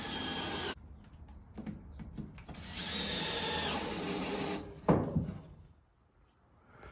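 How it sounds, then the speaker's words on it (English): A power drill driving screws through timber into plywood for a teardrop camper build, whirring and grinding in bursts close by, then winding down to quiet; no talking. "So as I'm drilling these down, I'm pressing quite hard on the drill"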